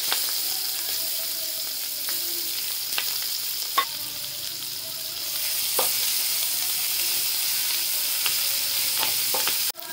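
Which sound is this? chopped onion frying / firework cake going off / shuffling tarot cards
chopped onion frying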